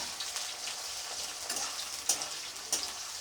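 Onion and crushed garlic fry in already hot oil for a potato curry while being stirred, giving a steady close sizzle with a few brief scraping clicks of the spoon.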